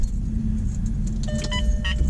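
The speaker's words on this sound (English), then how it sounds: "At least I'll turn the ignition on." Keys jangle as the ignition of a 20-year-old Volkswagen Jetta is switched on, light metallic clinks and a faint electronic tone over a steady low car rumble.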